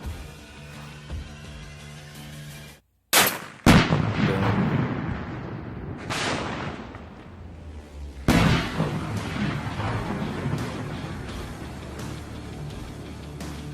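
A gunshot from a political campaign ad, a sharp blast after a brief silence with ringing echoes that decay, followed by a second loud boom and a long fading rumble.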